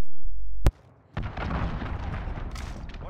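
Enemy cruise missile strike in Call of Duty: Modern Warfare: a sharp, loud blast followed by a sustained heavy rumble and crackling debris roar, with no talk.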